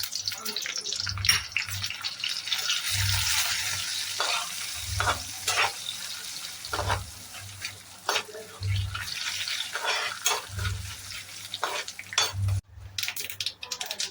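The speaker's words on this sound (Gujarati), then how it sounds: "રાય મીઠો લીમડો નાખી દઈએ અને તલ" Mustard seeds, curry leaves and sesame sizzle in hot oil for Gujarati patra, a continuous hiss broken by repeated rhythmic scrapes and clinks of a spoon against the pan.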